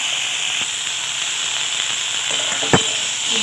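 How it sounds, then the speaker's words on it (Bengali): Sliced okra sizzles in mustard oil in a kadai with a little salt as it is stirred, a steady bright frying hiss broken by a few soft scrapes and one sharp clack of the spoon. "এবার এটাকে নেড়ে চেড়ে নামিয়ে নেব।"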